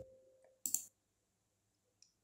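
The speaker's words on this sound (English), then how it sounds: "I click here remove ID." A few crisp computer mouse clicks while working in Adobe Acrobat Pro DC, one sharp click followed later by a fainter one in a quiet room.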